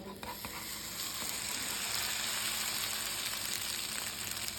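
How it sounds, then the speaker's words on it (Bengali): Maggi noodle and egg mixture sizzles steadily in oil on a hot tawa, a loud, continuous frying hiss with a few faint scrapes at the start and no talking. "এবার আমি তাওয়ার মধ্যে এটা আস্তে করে ঢেলে দেবো"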